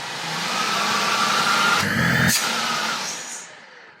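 A new, quiet, blower-like vacuum cleaner with 25,000 Pa suction runs close by, giving a steady airy whoosh that shifts briefly in pitch and then cuts off near the end.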